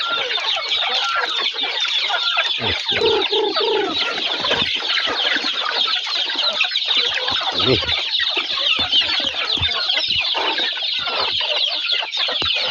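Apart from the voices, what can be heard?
chickens clucking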